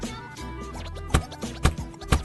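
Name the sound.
crunch of crispy fried biscuit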